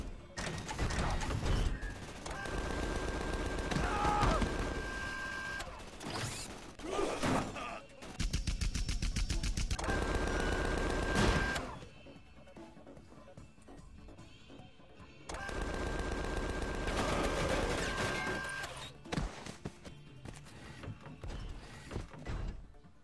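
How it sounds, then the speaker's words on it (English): Gunfire in a Black Ops video game comes as long, loud bursts of rapid automatic fire with heavy thumps, separated by brief quieter gaps. "Please stop shooting me."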